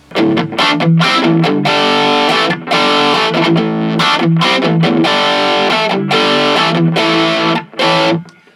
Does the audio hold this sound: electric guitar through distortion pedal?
yes